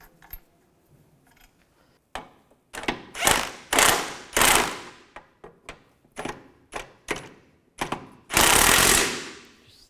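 Nuts on a Mini Cooper inner ball joint are run down with a power tool, giving a series of loud, close bursts of rattling buzz in uneven lengths, mixed with clicks and light metallic handling.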